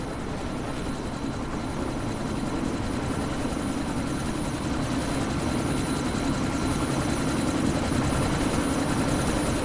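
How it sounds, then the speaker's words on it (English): A helicopter in the video game Deus Ex Mankind Divided thunders with a loud, continuous rotor roar and rapid blade chop, steady and close for the whole stretch with no talk. "you need to disable that chopper"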